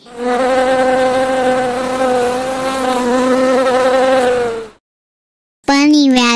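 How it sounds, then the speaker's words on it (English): Buzzing bee, a loud steady droning buzz lasting several seconds, then a brief silence before a short rising burst. "Bee."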